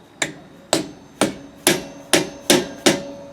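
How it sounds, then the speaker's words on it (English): Seven sharp, evenly spaced taps of a soft hammer striking a metal wheel-bearing dust cover on a travel trailer wheel, each with a short ringing decay, close by with no talking. "we'll take a soft hammer"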